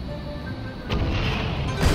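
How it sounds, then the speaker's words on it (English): A generator exploding in the VR Air Traffic Controller game: a low rumbling bang bursts in partway through, then a second thump follows near the end over a steady background hum. "Bang, burn, generator exploded again."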